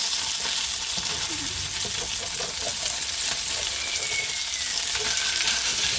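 Scallops and shrimp sizzle steadily in a hot frying pan, a dense continuous crackle held at close range with brief stirring and scraping sounds scattered through it, and no one speaking.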